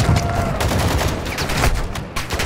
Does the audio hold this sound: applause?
no